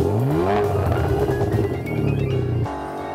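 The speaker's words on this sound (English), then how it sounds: "The sound of this car is unbelievable." An Italian sports car with Scaglietti coachwork being driven on a road heading north toward the mountains. Its loud, close engine revs up through rising tones, settles into a steady drone, then drops in pitch, with no voices.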